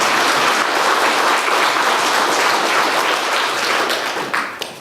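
A church congregation applauding the choir during a Sunday service, with steady, dense clapping that fills the room and tapers off at the end.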